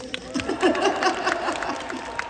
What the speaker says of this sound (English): Can we have a round of applause for the foot?